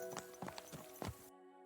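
Horse hooves clop several times in a short, uneven sequence in the medieval game Kingdom Come Deliverance II, close and fairly quiet, cutting off abruptly.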